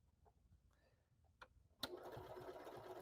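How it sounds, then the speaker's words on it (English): A Janome sewing machine sews fabric near its edge. After a short quiet stretch with faint clicks, the motor starts abruptly and hums in a steady, close whirr to the end. "I'm going to actually sew"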